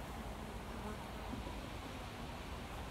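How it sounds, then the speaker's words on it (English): Honey bees flying back and forth around an open backyard hive, giving a faint, continuous buzzing hum over a steady background hiss. "bees are going to fly back and forth"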